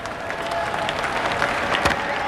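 Spectators at the 1985 India vs Pakistan Benson & Hedges World Championship cricket match applaud a delivery by Imran Khan, a steady wash of clapping from the crowd that holds at an even level throughout.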